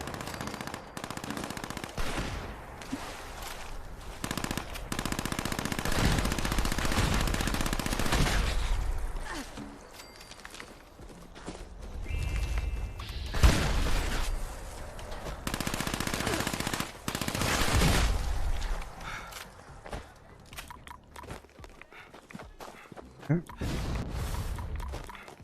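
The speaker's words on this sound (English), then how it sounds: "Shotguns sure are loud, though." Loud gunfire in Fallout 76, with a shotgun among the weapons, as bursts of heavy shots recur across the span amid busy game noise, with a voice talking in between.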